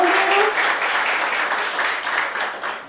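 Audience applause at a hospital event on intensive care services, a steady wash of many hands clapping throughout, fairly loud, with a brief tonal sound near the start.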